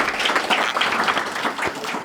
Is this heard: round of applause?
yes